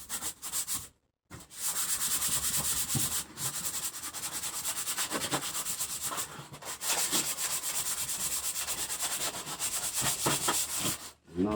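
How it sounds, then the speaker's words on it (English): Sandpaper rubs briskly back and forth over a gun's surface to dull its shine before camo paint, a close, rasping, rhythmic scrubbing with a couple of short pauses. "we're going to sand this thing down real quick"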